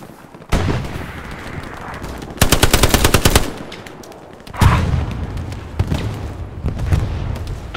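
Machine-gun fire and gunshots in the World War II shooter Hell Let Loose at Sainte-Mere-Eglise, a rapid loud burst in the middle with scattered nearby shots and booms before and after.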